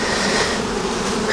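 Honey bees swarm around an open hive box at an apiary during a mature-honey harvest, making a dense, continuous buzzing drone close by that holds steady and swells slightly at the end, with no voices.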